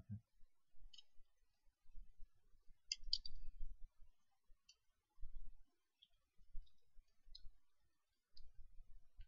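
Computer mouse clicking at a desk while downloading a file, with sparse, quiet single clicks and a few quick double clicks spread over the stretch, close and alone.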